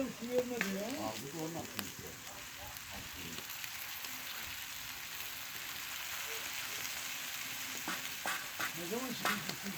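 Bayburt tava sizzles in a saj pan, a dense, steady crackling fry with stirring scrapes throughout, close by, while a voice sings or hums faintly over it.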